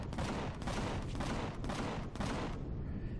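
Heavy railguns in the space game Empyrion fire on an alien planet in a dense, continuous barrage of loud booming shots with repeated sharp bursts, close and unbroken.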